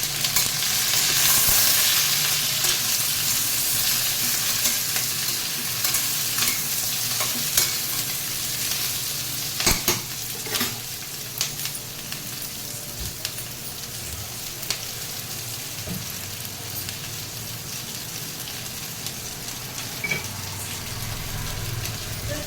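Curry leaves, green chilies, onions and brinjal fry in a pan with a loud, steady sizzle, broken by frequent scrapes and clinks of a spoon stirring against the metal.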